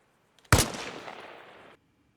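A single armor-piercing sniper rifle shot in the video game Arma Reforger cracks sharply after a couple of faint clicks, then rolls off in a long, fading echo lasting about a second.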